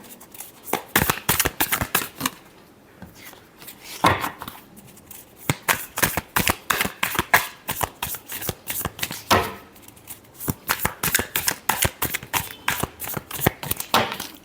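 Tarot cards shuffled repeatedly for a love reading, producing rapid crisp riffling bursts in quick succession with brief pauses between shuffles, close and clear with no talk.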